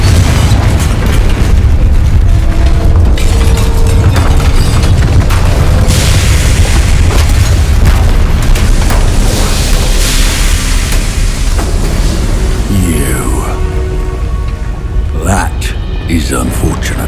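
Fiery Confringo spell blasts in the Hogwarts Legacy video game, repeated loud booms and bursts rolling over a dense, busy game soundscape, with a voice speaking briefly among them.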